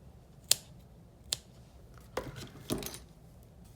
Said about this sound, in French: Et là, je vais couper l'excédent.